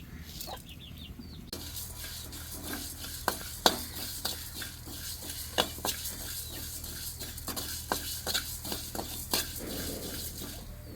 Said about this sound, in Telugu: బాండ్లు కాగింది ముందుగా ధనియాలు జీలకర్ర దూరగా వేస్తాను